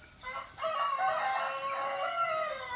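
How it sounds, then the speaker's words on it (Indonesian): A rooster crows once in a long, loud cock-a-doodle-doo near a small hut in a village, the call rising and holding for a couple of seconds, clear and close with no talk. "Suara ayam berkokok."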